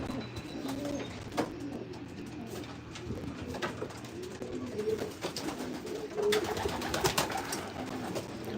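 Racing pigeons coo in a loft, soft repeated throaty calls overlapping at close range against a low background hum, with a few wing flutters and no talk.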